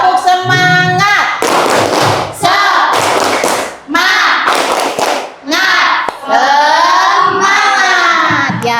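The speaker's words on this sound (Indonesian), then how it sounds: "Boleh tepuk semangat lagi? Ya, tepuk semangat." A classroom of students performs the rhythmic 'tepuk semangat' clap chant, with loud patterned hand claps and thumps mixed with voices chanting together in unison, close and energetic.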